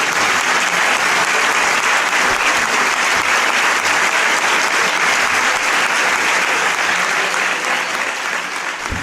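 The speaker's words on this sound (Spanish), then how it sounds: "yo creo que este aplauso dice mucho por sí solo." Audience applause at a talk or lecture, sustained dense clapping from a full room that holds steady for about nine seconds and eases slightly at the end, with no talk over it.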